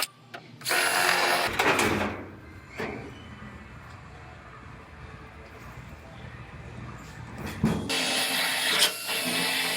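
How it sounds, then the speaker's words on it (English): A power drill whines in two loud bursts as it bores through the first layer of a new car floor panel, with a quieter stretch of shop noise in between. "I'm just going to drill through this first layer of the new floor now"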